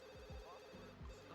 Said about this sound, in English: Okay, Johnny, why don't you go answer the phone